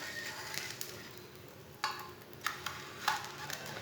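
A Punjabi-style sandwich sizzles softly in a pan, a steady faint frying hiss with a few brief scrapes and clinks as it is turned over.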